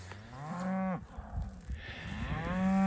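Cattle low repeatedly and loudly at close range in a paddock during a herd move, with long drawn-out moos rising at the start and again at the end over rustling outdoor background.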